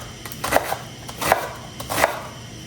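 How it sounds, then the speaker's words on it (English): A knife chops an onion into small pieces on a cutting board, three clusters of quick, close knocks spaced about three quarters of a second apart. "We're gonna chop up the onion."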